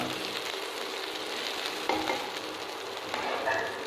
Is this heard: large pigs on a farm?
no